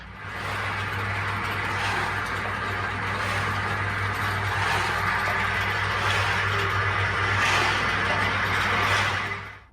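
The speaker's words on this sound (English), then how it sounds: "It's just a matter of how it works on its side and starts rattling the gravel around." A homemade contraption rattling gravel around inside a tank, a loud, steady, dense rattling roar with a constant low hum underneath, lasting the whole stretch.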